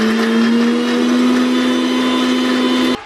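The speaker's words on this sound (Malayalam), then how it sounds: "നമ്മൾ മിക്സിയിലിട്ടിട്ട് ഒന്ന് അരച്ചെടുത്തിട്ട്" A kitchen mixer grinder runs at a steady high whir while grinding garlic for homemade guppy fish food, loud and close, then cuts off abruptly near the end.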